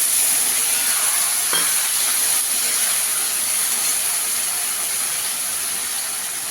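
A paste of ginger, green chilli and tomato goes into a pan of fried potatoes, raising a constant hissing sizzle with a short sharp clatter early on, alone without talk.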